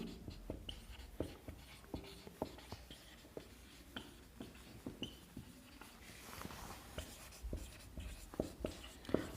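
A pen scratches and taps across paper while a maths exam problem is solved, a steady run of quiet, close strokes with no one speaking.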